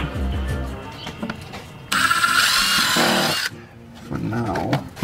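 A power driver sets a screw into a car aero kit on a 2022 Kia Stinger, a loud whining burst of about one and a half seconds between stretches of people talking.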